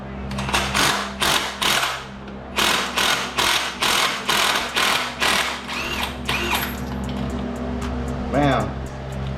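Ratchet clicking in rapid bursts while removing a bolt on a Mustang, about a dozen short repeated runs of loud close clicking, followed by quieter mechanical handling.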